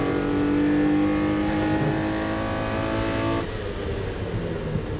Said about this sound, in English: a V8 Aston Martin joins the fray, escalating the battle into a thrilling 3-way tussle